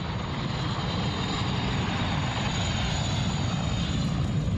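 Constant droning engine noise from firefighting helicopters passing above at a wildfire, loud and unbroken, with a faint high whine riding over the rumble.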